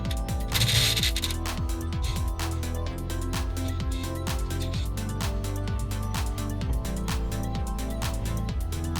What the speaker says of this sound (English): we're ready to take off these turbo bolts and nuts. We're going to use a 14mm socket with a breaker bar